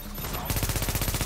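Rapid automatic gunfire in the video game The Division, a close, steady rattling burst that starts abruptly and keeps a fast even rhythm.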